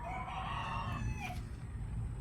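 An Ayam Cemani rooster crows once, close and clear, over a steady low rumble of background noise, the call rising and fading within a couple of seconds.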